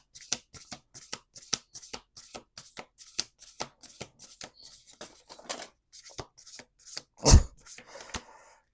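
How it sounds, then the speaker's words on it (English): Cards are shuffled repeatedly nearby, a quick rhythmic run of crisp riffling flicks, ending with a sharper snap of the deck. "Let's do 2 more shuffles."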